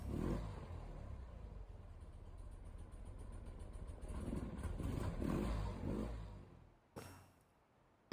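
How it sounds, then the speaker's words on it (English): A car engine purring steadily through a quiet night in the horror game Sister Other Paranoia, a low continuous rumble that swells slightly before cutting off, followed by a brief knock. "An engine's purr cuts through the stillness of the night."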